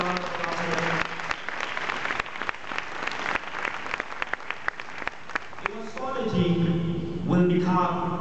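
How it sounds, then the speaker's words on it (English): An audience gives a round of applause for St. George's School of Montreal at a presentation, sharp scattered claps building into steady clapping, with a voice speaking over the end. "Can you give a round of applause for them?"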